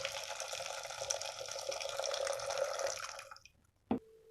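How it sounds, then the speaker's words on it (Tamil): Cooking water poured off boiled horse gram, a steady close splashing stream of liquid that tapers off, followed by a single sharp knock of a pot. "கொள்ளு ரசம் வடிச்சுக்கலாம்."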